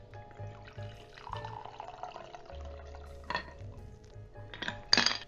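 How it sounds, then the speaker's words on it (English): A classic Manhattan cocktail with rye being shaken and poured into a glass, with clinking and rattling of metal and glass, a brief liquid pour, and a sharper burst of rattling at the end, close and fairly quiet. "Give it a shake. Just to chill those liquors, and pour it into our glass"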